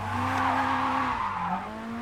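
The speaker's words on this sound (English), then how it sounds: "to hear the roar of the engine" A car engine drones steadily at close range, a sustained roar with a faint whine that shifts pitch slightly toward the end.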